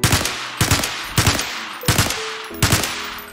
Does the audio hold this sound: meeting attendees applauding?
no